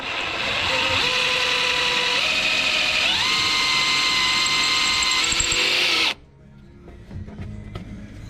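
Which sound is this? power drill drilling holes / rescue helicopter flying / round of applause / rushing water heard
power drill drilling holes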